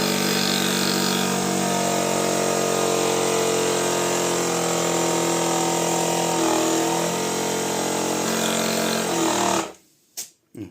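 A well pump station runs loud and steady with a constant motor drone and a whine layered over it, then abruptly cuts off near the end once it reaches the set pressure, leaving a few brief clicks.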